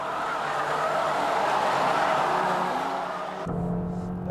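A Toyota Altezza races on a track during a battle with other Japanese sports cars. Its engine gives a loud, steady roar that shifts abruptly near the end to a lower, thinner tone.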